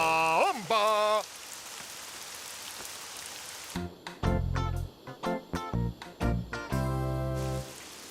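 Rain falls steadily in a cartoon Western scene after a rain dance, a soft continuous hiss of drops lasting several seconds, framed by musical stings and loud bursts before and after.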